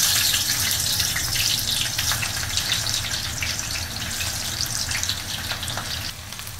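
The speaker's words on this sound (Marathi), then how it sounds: "कांदा चांगला परतून घ्यायचा आहे." Chopped onions fry in a kadhai for chicken dum biryani, giving a steady, close sizzle with crackling bursts that runs unbroken throughout and eases slightly near the end.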